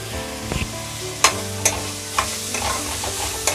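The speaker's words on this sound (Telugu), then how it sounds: "బాగా కలుపుదామండి అన్ని వేసి" Ginger garlic paste stirred into a frying onion mixture in a pan, a steady low sizzle with several sharp scraping clicks of the spoon against the pan, no talking.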